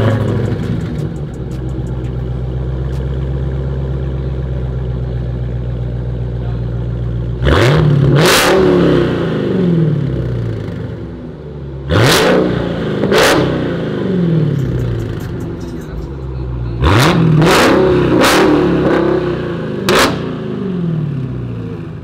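A Dodge Hellcat Redeye with a muffler delete idles with a deep burble, then gives three sets of sharp, loud revs, each spiking and falling back to idle, close to the car.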